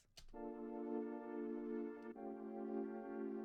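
A sustained synthesized dominant seventh chord rings out in FL Studio after a brief click, holding steady and then shifting slightly partway through, quiet and alone.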